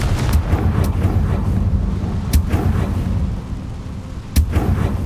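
A Confringo fire spell in Hogwarts Legacy bursts in sharp blasts over a steady rumbling roar, with a few distinct cracks standing out loudly.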